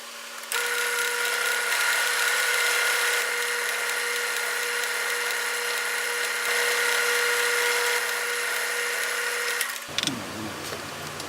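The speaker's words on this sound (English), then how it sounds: "Now that we have all of our holes drilled" Power drill boring holes through two stacked 1/4 inch MDF pieces, a steady loud whine holding for about nine seconds before stopping abruptly, followed by brief handling clatter.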